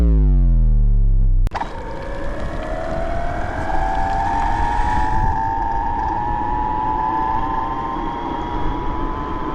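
A 72V BBS02 mid-drive electric bike motor whines while riding at around 800 watts, a loud steady high-pitched tone that rises slightly, with wind rushing over it after an abrupt start.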